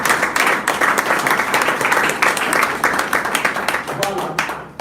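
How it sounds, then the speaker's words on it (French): Seminar audience applauds loudly and continuously, a thick wash of clapping with voices talking and cheering beneath it, fading slightly at the end. "On applaudit pour SD Pierre,"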